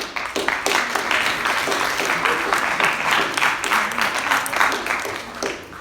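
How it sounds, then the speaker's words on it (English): A classroom applauds a student, with brisk, uneven clapping from a modest group that holds steady for several seconds before tapering off. "Round of applause, please."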